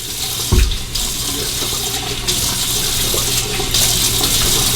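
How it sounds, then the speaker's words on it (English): Water runs from a bathroom tap and splashes onto a face over a sink, a close, continuous rushing stream broken by brief, louder splashes, with no voices. "I'll just splash some water on."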